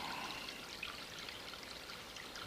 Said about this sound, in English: Here we are next to a little babbling brook.